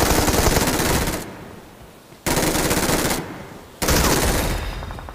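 Loud automatic gunfire from a mobile battle royale shooter game comes in three long, rapid bursts separated by brief near-silent pauses, close and dominant with no talking.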